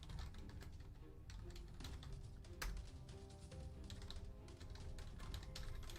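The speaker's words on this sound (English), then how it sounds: "I'm going to type in the rest of the codes" Rapid typing on a computer keyboard, a steady stream of close clicking keystrokes with occasional sharper taps, continuing throughout without pause and no talking.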